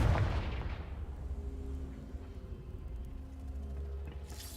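A Confringo fire spell goes off in a game as a sharp boom at the start, then trails into a low rumbling decay with faint crackle and no talk.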